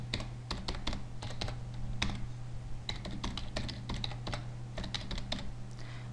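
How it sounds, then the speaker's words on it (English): Fingers tap out an email address on a computer keyboard in quick, irregular bursts of clicking keys, close and clear over a faint steady hum, with no one talking. "type your login email address"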